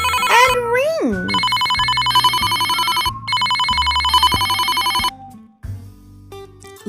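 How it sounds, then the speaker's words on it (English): A telephone bell rings over and over in loud repeated bursts, interleaved with a playful sliding melody and music, over a read-aloud children's story about animal mechanics at a garage. "the phone rings and rings and rings."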